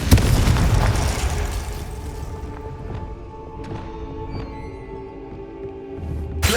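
A Confringo fire spell explodes in Hogwarts Legacy, with a booming blast followed by several sharp bursts and a final loud pop, all over a constant rumbling game backdrop.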